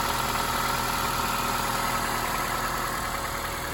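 A 2006 Honda Accord LX sedan's 2.4-liter four-cylinder engine idles smoothly and steadily, a close, even hum with a constant low vibration and no talking.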